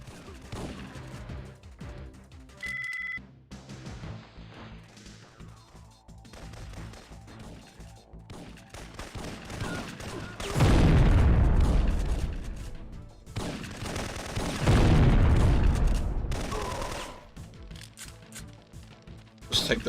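Combat shotgun blasts from the PlayStation game Syphon Filter, heavy booming bursts that swell loud in two clusters midway through, over game music and ambience, with someone talking throughout.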